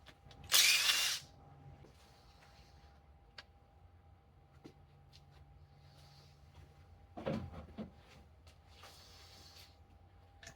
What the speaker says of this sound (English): This impact driver, I've got a 5/16 socket on it, and it actually works to get these off.